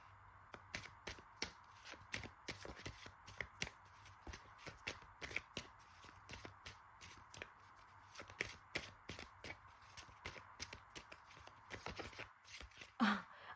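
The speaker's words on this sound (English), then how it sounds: "I'm just shuffling and nothing is jumping out." Tarot cards being shuffled by hand, a steady run of soft riffling flicks and slaps repeating close to the microphone in a quiet room, with a brief louder rustle near the end.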